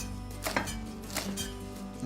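Knife chopping rainbow chard on a board, quick repeated cuts running through the clip alongside faint kitchen background noise, with no talking.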